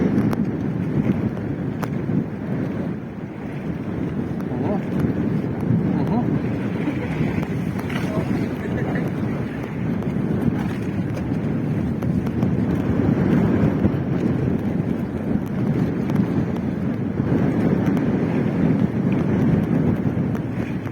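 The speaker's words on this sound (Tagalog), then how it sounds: "malakas yung taboy ng hangin" Strong wind ahead of coming rain roars steadily against the microphone while fishing, a loud continuous rumble with gusting swells and faint water sounds beneath it.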